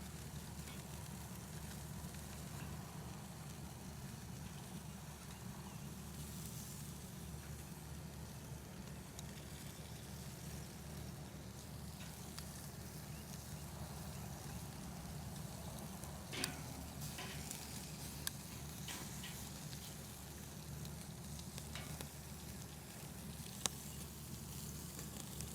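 Bacon-wrapped filet mignon steaks sizzle on a hot grill grate, a steady continuous hiss of fat and meat with a few faint clicks and pops, close and even throughout with no talking.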